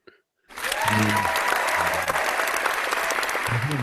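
Burst of recorded clapping and cheering played as a sound effect on a live radio show, starting abruptly after brief silence and holding loud and steady, with a few voices talking faintly underneath.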